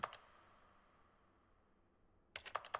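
Rapid bursts of computer mouse clicking while playing The Stanley Parable, a quick cluster at the start, then a near-silent gap, then a dense flurry of sharp, close clicks at the end.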